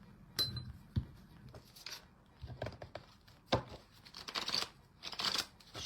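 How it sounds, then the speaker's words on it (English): Angel Feather Oracle cards are shuffled by hand close up, giving soft, irregular riffling flutters and light slaps in short bursts with brief quiet gaps between them. "Shuffle our cards."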